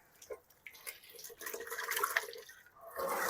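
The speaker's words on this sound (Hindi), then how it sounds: "टिंडों को हम ये देगची में डाल के धो लेंगे ताकि इसके छिलके अच्छी तरह से उतर जाएँ" Round gourds (tinda) being washed by hand in water in a pot, with uneven splashing, clattering and sloshing that builds in the middle, close and fairly loud, with no talking.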